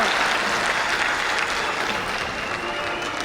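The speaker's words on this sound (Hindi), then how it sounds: "ये केवल तालियों का नहीं बल्कि स्टैंडिंग ओवेशन का मोमेंट है।" A large audience gives dense, sustained applause at an honor ceremony for an Uttarakhand singer, a steady roar of many hands clapping throughout the standing ovation.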